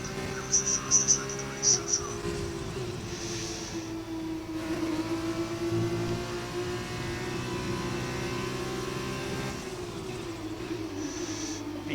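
Formula 1 race car engines in the F1 2020 racing game hold a steady, loud, high-pitched drone that rises and falls slightly in pitch as the car accelerates and shifts through a lap.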